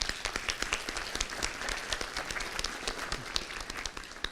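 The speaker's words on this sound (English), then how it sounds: "I'd like to ask people to give a round of applause" An audience at a city mayor's State of the City address gives a round of applause, dense steady clapping from many hands, moderately loud and slightly distant, lasting the whole stretch.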